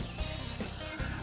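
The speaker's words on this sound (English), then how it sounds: "That's like sizzling." A steady hiss of bologna sizzling and frying in a hot pan, crackling continuously with no voices.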